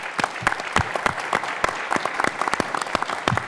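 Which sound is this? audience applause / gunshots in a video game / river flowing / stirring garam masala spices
audience applause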